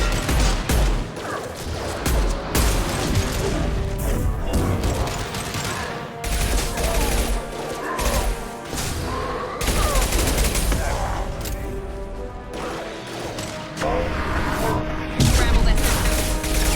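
Continuous combat gunfire in Mass Effect 2, with a powerful impact shot among sustained loud bursts and crashing hits, while voices call out over the shooting.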